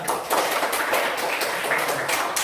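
A classroom of students claps for a group presentation, producing rhythmic, fairly close bursts of hand claps that pulse steadily for a couple of seconds.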